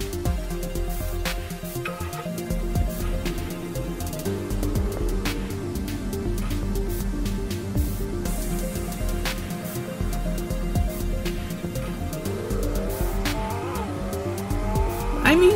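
A blue Lamborghini Huracan in the Roblox Car Dealer game drives with a steady, loud engine drone that runs the whole time, then rises in a climbing rev near the end, with tire squeal through it and no voice.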